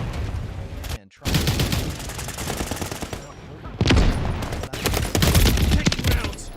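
Call of Duty MW3 gunfire in bursts, dense automatic rattles and loud reports broken by brief pauses, with a voice heard in among the shots.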